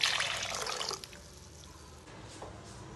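Water splashes as it is poured into a pot of hotel-style tiffin sambar, a short close pour lasting about a second before fading to quiet kitchen background.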